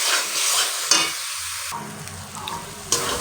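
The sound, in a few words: tomato paste frying in oil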